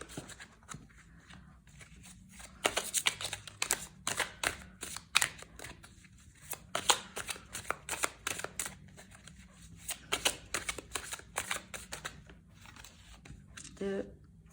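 Tarot cards shuffled for a new moon reading, with quick repeated riffling and flicking bursts close to the microphone throughout, moderately loud with short pauses.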